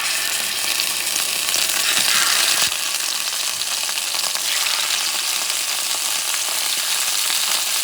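Scallops sear in hot olive oil in a pan over medium heat, giving a loud, steady sizzle that fills the whole stretch with no voices over it.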